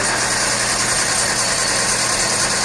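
Car engine idling steadily after being cranked by its starter motor during a starter test, a constant close mechanical drone with no voices.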